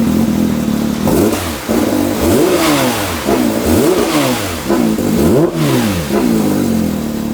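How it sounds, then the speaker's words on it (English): A Porsche 992 GT3 RS on its original stock exhaust revs repeatedly, each blip climbing sharply and falling back in a series of about seven close, loud rev cycles with no talking. "So this is what the exhaust system sounded like before."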